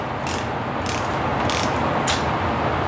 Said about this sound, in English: This stud is not tightening up.